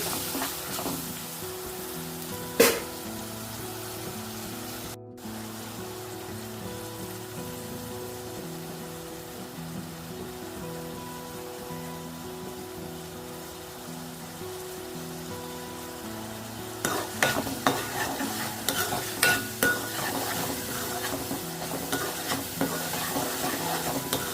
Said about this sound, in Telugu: చక్కగా నూనెలో వేగాలండి కమ్మటి వాసన వస్తుంది